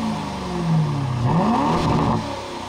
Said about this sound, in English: you'll get the idea with this little rev in Sport Plus mode.